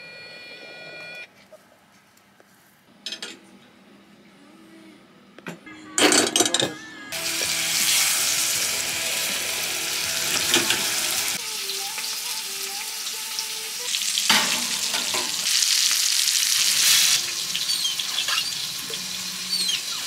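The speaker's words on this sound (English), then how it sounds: "The reality of cooking a big piece of meat in a tiny house." A large chunk of meat fries in a pan inside a tiny house kitchen, the sizzle flaring loudly after a few clatters and then hissing steadily, with occasional handling bumps.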